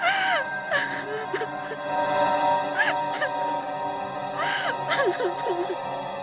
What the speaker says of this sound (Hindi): ये तो किसी औरत के रोने की आवाज लग रही है।